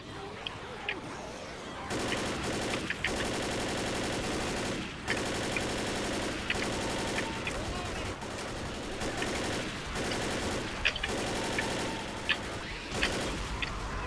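Dense, continuous gunfire from the video game Left 4 Dead, with rapid automatic bursts and shots layered almost nonstop and loud throughout, with only a few brief gaps.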